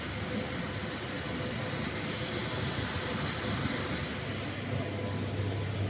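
A fully automatic KN95 mask making and packing machine runs at about 100 pieces per minute, giving off a steady, dense mechanical hiss and whir that holds even and unbroken from start to finish, with no voices.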